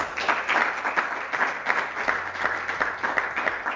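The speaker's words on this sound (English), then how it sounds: "So shall we applause for" An audience at a space technology alumni symposium applauds its speakers. The clapping is moderately loud and irregular, a busy patter of many hands that rises and dips slightly.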